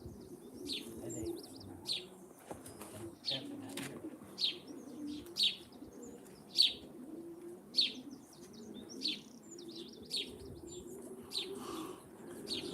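Pigeons in a loft cooing, with repeated soft coos and occasional chirps and wing flutters, moderately faint with a low murmur of background activity.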